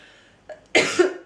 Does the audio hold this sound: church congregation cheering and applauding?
no